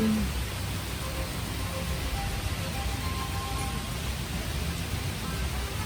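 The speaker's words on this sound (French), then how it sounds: "Regardez, c'est une averse torrentielle, vraiment." A torrential downpour at a beach in Cancun makes a dense, continuous hiss of heavy rain, steady and fairly loud throughout.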